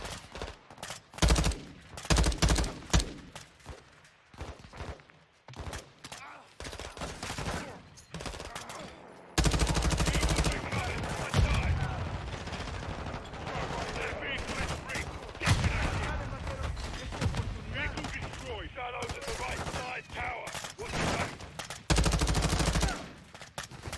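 Heavy gunfire in the Call of Duty: Modern Warfare II campaign finale, rapid bursts and fusillades firing repeatedly and loudly throughout, with voices heard amid the shooting.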